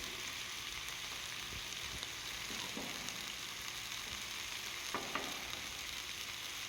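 Cottage cheese steak fries softly in olive oil over a low flame while being stirred and moved around the pan, giving a faint, steady sizzle with occasional light scrapes.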